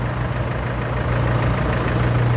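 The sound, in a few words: mini loader engine idling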